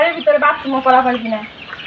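Chickens cluck and cackle close by while being fed, in a quick, busy burst, their calls overlapping densely.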